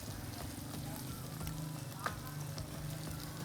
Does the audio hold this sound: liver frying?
yes